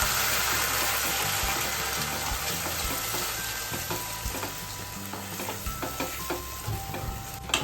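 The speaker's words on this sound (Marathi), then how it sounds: "कांद्याची पेस्ट छान गोल्डन रंग येईपर्यंत आपण परतून घेऊया" Onion paste sautéing in a pan, a strong steady sizzle with frequent rhythmic scraping and tapping of a spoon as it is stirred, growing more clattery toward the end, with no voices.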